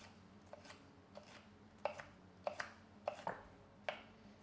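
Knife cutting jalapeno chilies in half on a board, a series of crisp, separate chops and taps at an irregular pace, close and fairly quiet with no talk.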